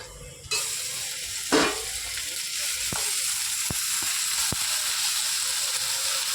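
Jute leaves frying in a pan, a constant hiss of sizzling oil after a sharp burst as they go in, with a few distinct metallic taps of a utensil against the pan, close and without speech.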